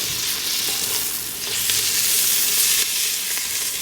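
One-pot chicken biryani in a frying pot, stirred after cilantro leaves go in: a loud, continuous close sizzle with soft stirring rustles throughout.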